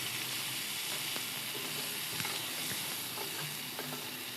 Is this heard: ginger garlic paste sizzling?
yes